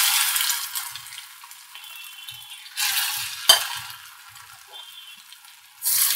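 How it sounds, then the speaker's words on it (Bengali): A pan of food frying in oil, a steady hiss with brief louder sizzling bursts as pieces are added or stirred, heard close and with no voices. "একইভাবে আমি সবগুলো ভাজা করে নেব"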